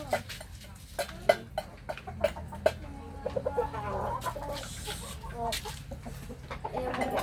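Chickens cluck and squawk close by in short repeated bursts while being fed, with some background commotion and movement.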